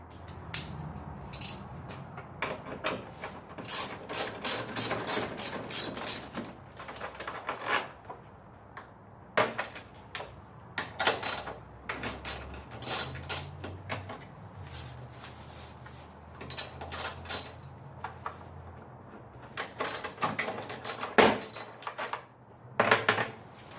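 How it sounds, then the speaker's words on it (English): Ratchet wrench backing out four bolts on a motorcycle trunk: bursts of rapid clicking separated by pauses, with scattered metallic clinks and handling noises, close and fairly quiet. "let's pull all the four of these bolts out"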